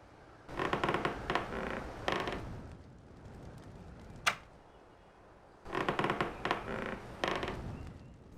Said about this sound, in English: And a squeaky door.